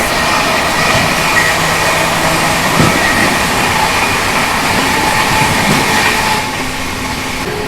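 An UP Sampark Kranti express train rushes past on the adjacent track at a crossing, a steady loud roar of rolling wagons with faint clickety-clack that eases slightly near the end.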